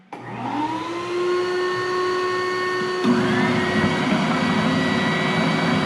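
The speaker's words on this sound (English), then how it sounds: "Turn on my vacuum." A shop vacuum whines up to a steady, loud drone, and partway through a Bauer oscillating spindle sander joins in with a denser, rougher roar while sanding reclaimed pallet wood for a shelf; there is no talking.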